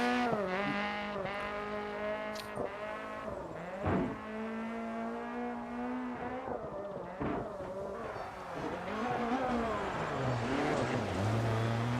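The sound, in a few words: rally car handbrake turn in racing video game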